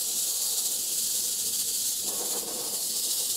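Steady, close airbrush hiss spraying water-based paint, holding continuously for a few seconds with a slight swell near the end and no voices.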